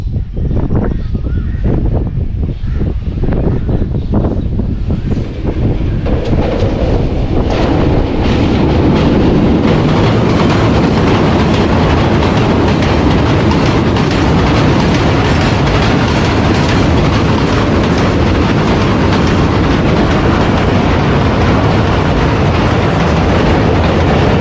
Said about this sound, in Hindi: सामने से 8 डाउन तेज़गाम आ रही है और ZC20 इसको लीड कर रहा है।